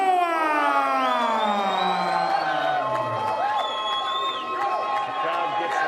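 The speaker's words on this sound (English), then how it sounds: "The crowd gets loud, Flobo." A loud crowd roars through a fighter introduction at a fight event, with wailing siren-like horn tones sweeping above the steady din and voices mixed into the noise.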